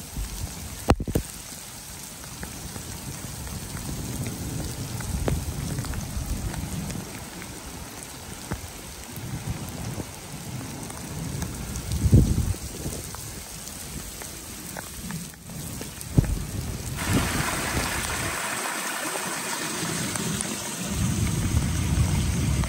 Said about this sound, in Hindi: ये बारिश हो रही है, बहुत तेज़ बारिश है।